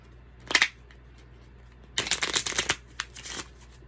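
Tarot cards being shuffled by hand, a short riffle followed by a longer, louder flurry of rapid card flicks, close up.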